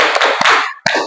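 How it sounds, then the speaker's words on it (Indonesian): Two sharp, close hand claps land about half a second apart over a bright, noisy background, each one a quick, crisp smack. "Tepuk tangan 2 kali."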